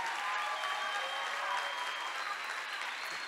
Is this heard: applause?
yes